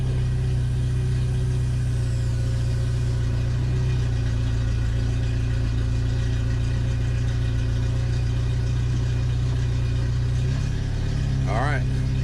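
Engine of a 1997 Jeep Wrangler TJ running steadily in first gear after a transfer case swap, a constant low idle drone close by with a slight rise near the end, while someone talks over it.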